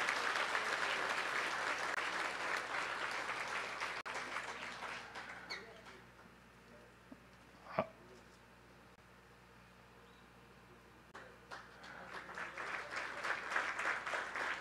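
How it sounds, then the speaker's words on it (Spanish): A crowd applauds police officers receiving decorations at a Michoacán police promotion ceremony. Broad clapping fills a large space, fades away in the middle with a brief sharp knock, then swells again toward the end. "Les brindamos un fuerte aplauso de favor a los condecorados"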